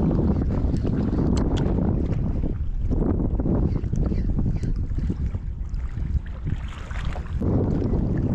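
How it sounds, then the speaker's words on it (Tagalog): Strong, steady wind buffets the microphone throughout, a continuous low roar with gusty swells near open water on the coast at Salalah, Dhofar, Oman, at low tide. "lakas pala ng hangin dito"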